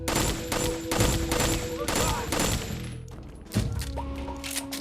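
Gunfire in the video game Metal Gear Solid: Snake Eater 3D, with rapid bursts of shots, thuds and impacts over game music tones, fairly loud and busy, with a voice faintly mixed in.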